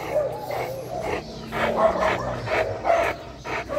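Muzzled pit bull on a street walk barking repeatedly at another dog, a series of loud, close, rough barks in quick bursts, with a voice briefly audible.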